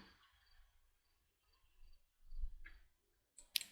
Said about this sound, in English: I noticed that the crickets and that got quieter when day came